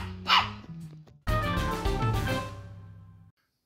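Dog barking outdoors near a car, one sharp bark followed by a longer, louder bark or howl, close and alone.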